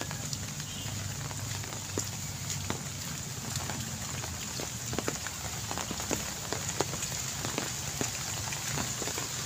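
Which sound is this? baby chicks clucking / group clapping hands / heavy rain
heavy rain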